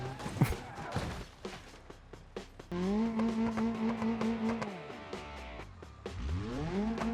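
A car drifting in the video game BeamNG.drive: brief clatter and knocks, then a loud sustained engine rev with tire squeal that drops off, followed by another rising rev near the end.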